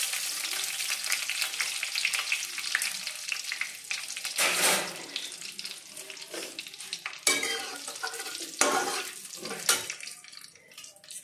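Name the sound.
dried red chilies sizzling in hot oil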